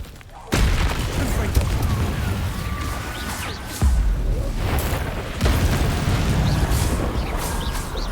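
Confringo blasting spell from Hogwarts Legacy going off, with three loud, sudden booming blasts that land in succession and each leave a rumbling tail. A voice talks over the action.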